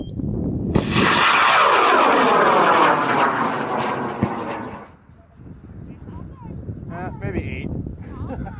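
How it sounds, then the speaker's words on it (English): A 12-foot, 45-pound, 6-inch Ultimate Darkstar model rocket lifting off on an Aerotech M1550 Redline motor: a loud, roaring rush that swells and then fades as it climbs away, followed by quieter outdoor rustling. "it's going up on an M1550 Redline"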